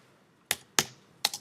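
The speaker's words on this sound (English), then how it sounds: "I hit return on the keyboard" Three crisp, quiet clicks on a computer keyboard as the return key is pressed, the last a quick double tap, with near silence between them.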